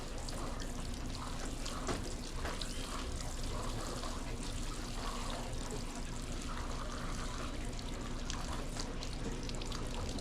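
Water pours and trickles onto plant soil in a steady, continuous stream, faint and close, with small splashing bursts all the way through.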